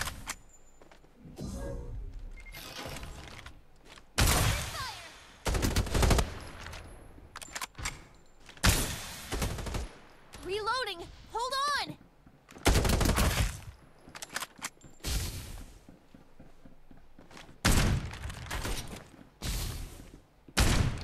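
Rapid gunfire in the Farlight 84 battle game, repeated bursts of loud automatic shots separated by short pauses, with sweeping whooshing effects in between.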